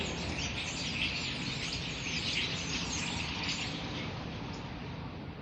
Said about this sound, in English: these are cute birds, and their chirping is cute